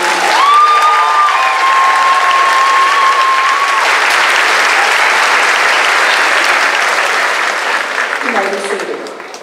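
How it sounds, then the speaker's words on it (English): Large crowd at a high school graduation ceremony applauds and cheers the graduates, loud sustained clapping with whoops and a held shout early on, tapering slightly near the end. "Let's give these kids a round of applause."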